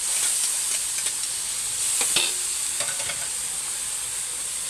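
Carrots stir-fried in a hot pan for pansit bihon give a steady, close sizzling hiss with occasional scrapes and taps of the spatula, no voices.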